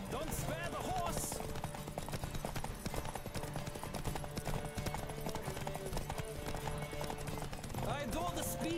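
Hooves pound at a fast gallop as a horse races in a Witcher video game, a steady rhythm under game music with faint neighs at the start and end.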